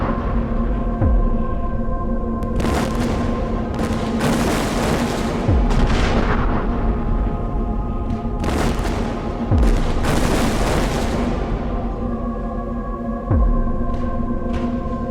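Sci-fi blasts of a superpowered red ray striking and shattering a planet: a steady droning hum carries repeated loud booming bursts with sharp sweeping zaps, several heavy impacts spaced a few seconds apart.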